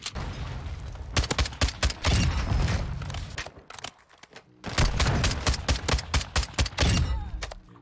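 Rapid gunfire from an EBR-14 rifle in Call of Duty MW2, loud sharp shots in dense bursts with a brief lull in the middle, echoing crackle throughout.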